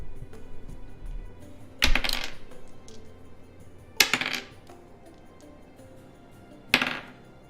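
Orange dice tossed into a dice tray, three separate clattering rolls spaced a couple of seconds apart, close and fairly quiet, with no talking.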